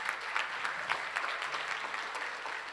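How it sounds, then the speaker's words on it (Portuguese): A church congregation claps for members standing after serving, a dense, steady round of applause with no speech over it. "Uma salva de palmas para eles, por favor."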